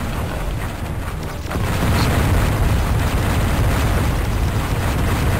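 Missiles exploding against a boss in the video game Descent, a dense continuous roar of blasts that swells louder partway through and holds steady, loud and without talk.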